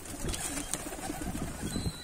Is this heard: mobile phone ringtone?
no